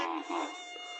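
A pet mosquito being ridden into a village gives a dense, continuous high-pitched whine, loud and steady for about a second with a slight wavering.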